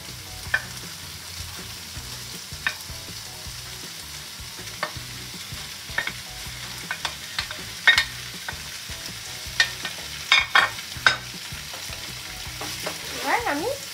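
Chicken kebabs sizzle as they fry in a pan for a hariyali kebab roll, a steady close hiss broken by scraping stirs and clicks of a utensil against the pan.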